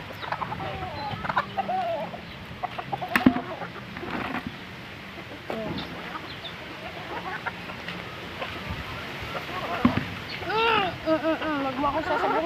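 Hens cluck and fowl call repeatedly at close range on a farm during feeding, with a rooster crowing faintly at times and a person speaking intermittently over the busy, continuous poultry chatter.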